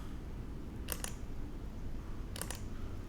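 Two quick double clicks from a computer mouse, about a second and a half apart, crisp and close against a steady low background hum.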